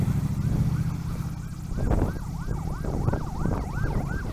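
An ambulance siren wails in repeated rising and falling cycles on a road in southern India, heard from a motorcycle over steady engine and road rumble and growing stronger as it nears.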